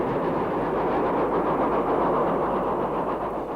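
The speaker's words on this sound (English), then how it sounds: "both the locomotives seen here are Caprotti valve-geared versions of the familiar Stanier Black 5s" Caprotti valve-gear Stanier Black 5 steam locomotives run past with a loud, continuous, dense rumble and rolling clatter from start to finish.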